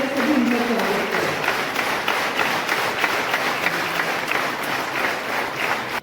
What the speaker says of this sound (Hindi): तालियां बजाकर सभी उनका स्वागत करें।